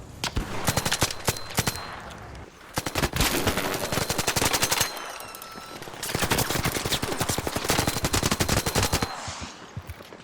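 Rapid bursts of automatic weapon fire from the ARC Raiders video game, loud and sustained with brief pauses between volleys, including continuous stretches of machine-gun fire.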